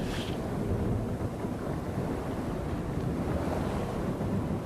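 Ocean waves in the Table of Tales: The Crooked Crown VR game: a steady, full wash of surf and rushing water with wind noise, constant and close, with no voices.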